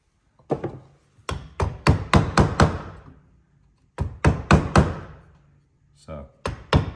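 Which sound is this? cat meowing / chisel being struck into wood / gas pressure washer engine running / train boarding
chisel being struck into wood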